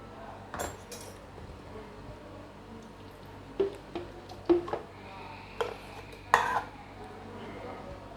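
Soft wet scooping and clinking as thick homemade cream for butter and ghee is spooned from a bowl into a blender jug, a few sharp utensil taps against the rim amid quiet kitchen noise.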